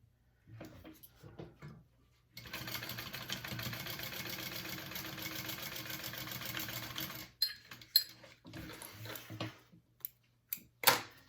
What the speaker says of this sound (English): I am going to sew them at a 3/8 inch seam allowance on both my exterior and my lining